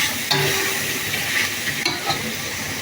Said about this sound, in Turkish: Şöyle karıştırıyorum.